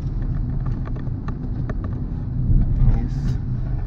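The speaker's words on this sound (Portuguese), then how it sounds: "A marcha reduz terceirinha" Car engine rumbling steadily inside a driving-school car after downshifting to third gear in peak-hour traffic, a low continuous drone with faint road noise that swells slightly near the end.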